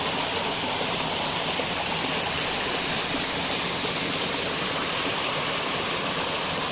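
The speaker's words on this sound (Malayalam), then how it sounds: "ഇതിൽ നിന്ന് ഒഴുകി വരുന്ന വെള്ളം തന്നെയാണ്, ചെറിയ രീതിയിൽ ഒഴുകി വന്ന് ഇനി താഴെ വരെത്തും." Water flowing down from Mamalakandam waterfall in Kerala, a loud, constant broadband rush that stays steady and close throughout, with no voices over it.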